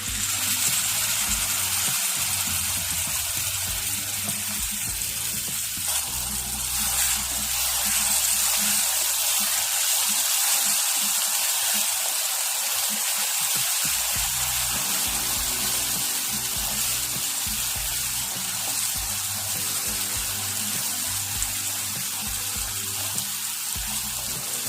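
Ground paste for a Telugu palak onion karam dish is added to the hot pan and fries with a continuous watery hiss and spatter, steady and close throughout with a brief shift midway, no talk.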